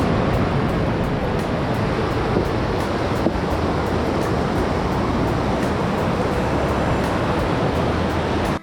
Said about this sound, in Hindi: ये आप देख सकते हैं 100 फुट से ज़्यादा ऊंचाई से गिर रहा है ये पार्वती झरना